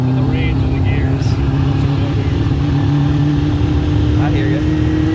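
Caterham Seven kit car with a Kawasaki Ninja ZX-9 motorcycle engine drones loudly at high revs near the top of its gears, a constant close engine roar from a ride-along seat, with people talking over it.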